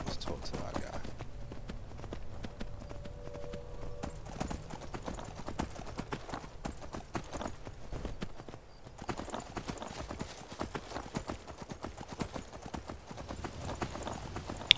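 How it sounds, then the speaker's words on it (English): Horse hooves clip-clopping in the Skyrim video game, a steady stream of quick, fairly faint hoofbeats with a brief tonal sound early on. "We're so much better now, we've got a horse."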